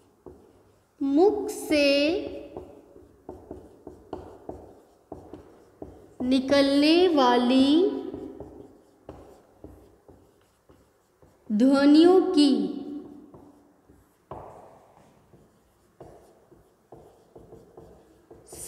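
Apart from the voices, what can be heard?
writing on a board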